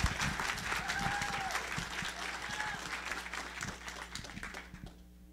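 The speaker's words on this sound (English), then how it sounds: "A round of applause for Rhonda" A crowd at a Wichitalks speaker event claps for Rhonda, broad steady applause that thins toward the end, with some voices mixed in.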